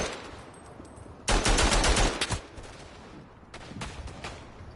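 Dense bursts of machine-gun fire in the WWI trench shooter Verdun, a long loud burst followed after a pause by a shorter one, close and sharp, with lighter distant gunfire between.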